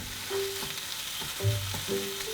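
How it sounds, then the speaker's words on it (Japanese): A chicken breast patty sizzles steadily in a pan as its moisture cooks off and it browns. The frying is close and continuous, with a few soft clinks or stirring touches and no voices. "水分を飛ばして焼き色をつける"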